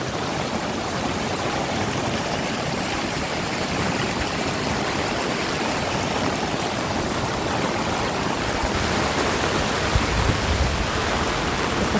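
A small creek running full of water after heavy rain beside a farm plot, its steady broadband rush continuous and fairly close throughout, with no voices.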